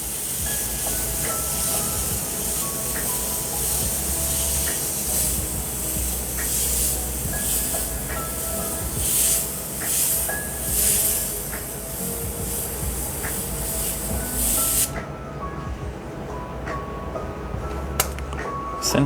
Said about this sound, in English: any kind of air compressor, any brand is fine. Central Pneumatic, Harbor Freight air compressor.